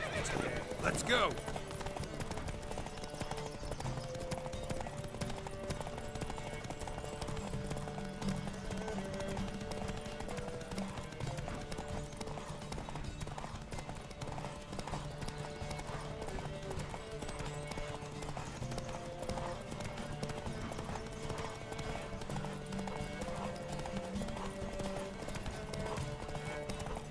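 Horses gallop in a race in The Witcher 3, with rhythmic hoofbeats clip-clopping steadily and a sharp whinny near the start, layered under game music and occasional talk.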